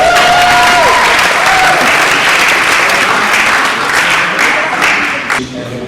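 Sustained, loud applause from an audience after a music performance, a dense steady wash of clapping that fades slightly near the end.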